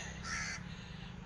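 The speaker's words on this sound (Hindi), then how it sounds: "वो है कौवा का घोंसला, जहाँ पर कौवा भी है उधर देखो" A crow near its nest in a peepal tree gives a single harsh caw, fairly close and clear over a low background hum.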